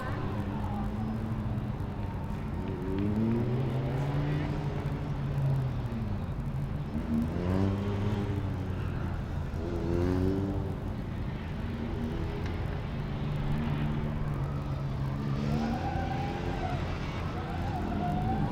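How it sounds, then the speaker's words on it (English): A Formula Student race car from the Zwickau team at FSG 2012 runs an autocross lap through the horseshoe and down the final straight. Its engine note climbs and drops repeatedly with the throttle and gear changes, and an announcer talks over it. "Got Zwickau coming round the horseshoe and down the final straight."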